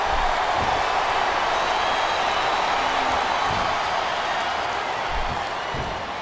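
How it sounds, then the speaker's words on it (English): Capacity arena crowd at a WWE SummerSlam wrestling event roars in a steady, dense wash of noise, with a few scattered low thumps underneath, holding loud throughout before easing slightly at the end. "It sounds like this capacity crowd has something on their minds"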